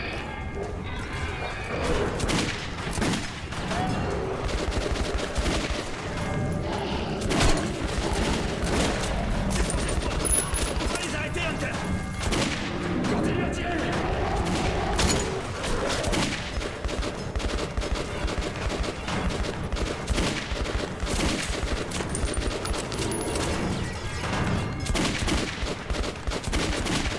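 Gunfire in Metro 2033 Redux, with rapid repeated shots and bursts cracking throughout amid clattering combat noise, loud and close, with someone talking at times over it.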